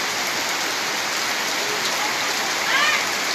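Heavy rain pours down in a steady, dense hiss that fills the whole stretch, with a faint, brief tonal sound rising near the end.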